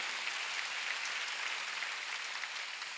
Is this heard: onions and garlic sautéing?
no